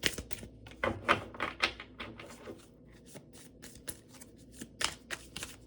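A deck of tarot cards is shuffled and drawn for a love reading, giving close, crisp riffling bursts and papery flicks, followed by lighter taps and slides as cards are laid out.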